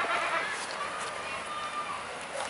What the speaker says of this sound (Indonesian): Itu kambingnya manggil.